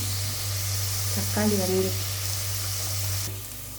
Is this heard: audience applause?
no